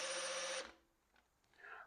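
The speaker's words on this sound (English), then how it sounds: "My drill's getting hot too" Power drill turning over an engine in a home garage, a loud steady whine that stops abruptly, a short quiet gap with faint clicks, then a softer rising whir as it starts again.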